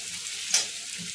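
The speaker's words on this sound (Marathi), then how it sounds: "हे कांदा टोमॅटो आपण बारीक चिरून घेतलेलं कांदा टोमॅटो त्यामध्ये टाकू। कांदा असा आपला परतून झालाय" Finely chopped onion and tomato frying in a pan, a soft continuous sizzle close by with a brief louder hiss midway.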